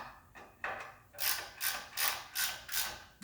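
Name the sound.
ratchet tightening engine bolts on a Porsche 911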